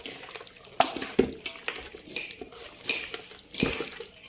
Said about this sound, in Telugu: ముక్కలు కలిసేటట్టు మంచిగా కలుపుకోవాలి